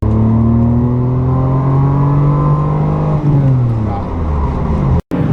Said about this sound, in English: so the motor's humming